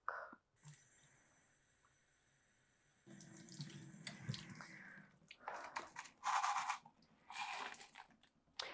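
Tap water runs and splashes while flushing the roots of a Queen Anthurium, Anthurium waroqueanum, starting in soft bursts then a steadier gushing stream with louder splashing toward the end.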